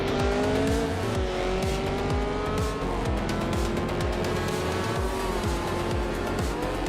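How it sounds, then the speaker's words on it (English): Formula 5000 race cars scream around a tight street circuit, engines rising and falling through repeated gear changes, loud and close, with tire squeal on the corners. "The Formula 5000 cars are closely matched on this street circuit, with quick lap times and frequent overtakes."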